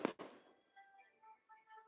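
Fireworks going off outside during a live gardening stream, with two sharp bursts at the start followed by faint crackling and whistling tones trailing away in the distance.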